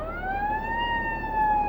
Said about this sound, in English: I think it's an ambulance, maybe a fire truck.